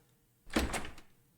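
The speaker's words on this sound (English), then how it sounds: "I went to open the door." A door in the video game Danganronpa V3 opens with a single short, close thunk and a sliding rush that fades within half a second, against silence.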